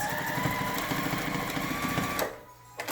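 Sewing machine running a straight seam on a fabric face mask, a close, steady rapid stitching hum that stops near the end, followed by brief quiet and a small handling noise.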